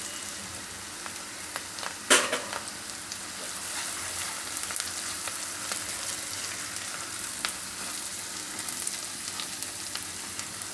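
Spices, turmeric, coriander-cumin and salt, with gram flour roasting in hot oil for a paneer curry, a constant soft sizzle with one sharp clatter early on and light stirring scrapes, close and free of talk.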